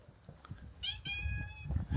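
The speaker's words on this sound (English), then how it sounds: "meet the local cat" A local cat at a house in Sora, Italy lets out a clear, close meow midway through, with a drawn-out harmonic cry above soft outdoor rustling and low background noise.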